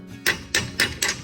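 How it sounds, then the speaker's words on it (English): A little hammer taps sealed suspension bushings into the a-arm of a 2018 Ranger XP1000: four sharp, evenly spaced metallic knocks, close and clear. "if they're hard to push in, you can just tap them with a little hammer"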